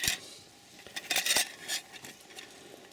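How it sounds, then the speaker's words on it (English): Metal camping pots and lids from a nesting cook set clink and scrape together in quiet handling, with several brief sharp clatters clustered in the middle over faint background noise. "It actually comes as a nest of 2 pots and 2 lids, which are basically like cups or pans"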